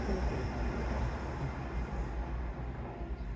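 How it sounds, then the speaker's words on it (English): A train rumbles past near a bridge on the walk to Shaldon, a broad steady roar that slowly fades, with no talk over it. "train!"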